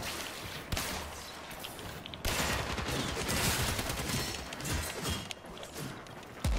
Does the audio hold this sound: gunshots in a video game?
yes